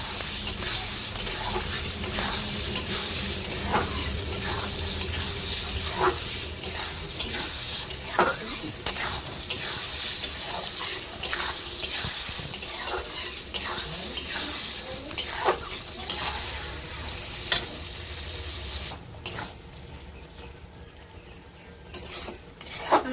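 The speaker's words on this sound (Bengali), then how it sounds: "আলু আর টমেটোর সাথে মশলাটাকে আর একটু কষিয়ে নেবো" Fried potatoes, tomato and spices sizzling in a hot pan, with continuous loud scraping and clattering of a spoon stirring the mixture, the sizzle dropping briefly near the end before stirring resumes.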